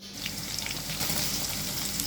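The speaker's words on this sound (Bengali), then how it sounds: "তেলটা গরম হয়ে গেলে এখন দিয়ে দিব রসুন কুচি" Chopped garlic dropped into hot oil in a karahi gives a dense, steady sizzle with crackling spatters close by, with no voices.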